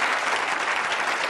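Steady, loud applause from a large audience at a televised political debate, continuous dense clapping throughout with no voices breaking through.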